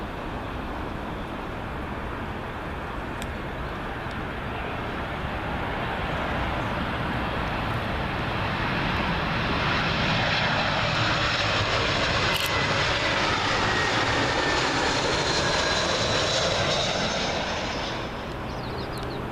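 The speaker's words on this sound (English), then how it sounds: "Up next, British Airways A320, arriving from Venice." A British Airways Airbus A320 arriving at Heathrow runway 27L from Venice, engine roar swelling as it approaches, peaking loud overhead with a rising whine, then easing slightly as it passes; no speech.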